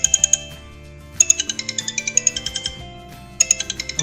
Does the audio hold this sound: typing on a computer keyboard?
no